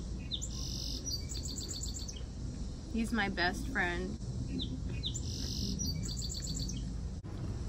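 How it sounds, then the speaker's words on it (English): A small bird on an outdoor deck chirps in quick, bright bursts, some near and some a little farther off, over a steady background hiss, while a person talks briefly in the middle. "Dude, he's like chirping back at me."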